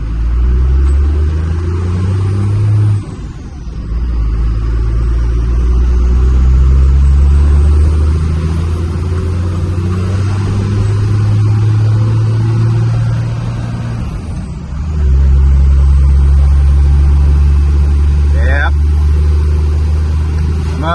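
A Cummins diesel crew cab truck engine labors steadily uphill under load with a deep, droning growl that dips briefly and then resumes, constant and close throughout.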